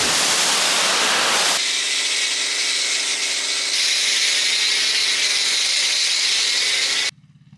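Water sprays steadily onto a 1980s Toyota car as it is washed, a loud continuous hiss that shifts partway through and cuts off abruptly near the end.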